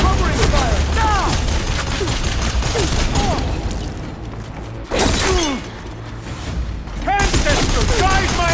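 Sustained weapon fire and crashing impacts fill a battle in the video game Horizon Burning Shores, loud and busy with repeated bursts, a brief lull near the middle, then heavy fire resuming.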